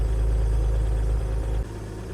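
A cheap tow truck's engine idles after an idle-speed adjustment: a steady, close, low rumbling drone that drops slightly in pitch and level near the end, with no talk.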